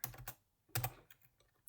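Typing on a computer keyboard comes in quick clusters of close, crisp key clicks with short pauses between bursts, fading to lighter taps at the end.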